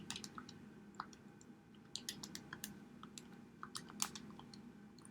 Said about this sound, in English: you can go to your calculator and type that in and get an answer for both sides